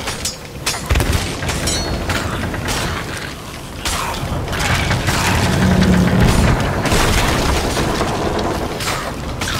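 Cannon fire at a skeleton ship in the pirate game Sea of Thieves, dense booming shots and clanking mechanisms layered continuously with loud churning battle noise, no clear talk.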